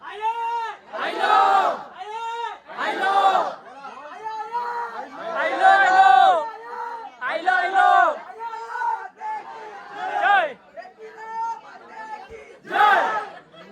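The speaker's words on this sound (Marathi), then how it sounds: "गाईज गर्दी बघा, फक्त गर्दी बघा" A dense crowd of pilgrims on the hill steps to the Ekvira temple makes a loud, continuous mass of voices. Shouts and chanting rise and fall in waves nearby.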